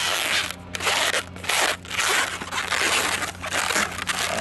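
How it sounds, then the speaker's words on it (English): A latex balloon is twisted and folded into dinosaur legs, giving continuous close squeaky rubbing and crinkling with a few sharper squeaks, loud and steady throughout, with no voice. "You're gonna make a twist right here, and fold,"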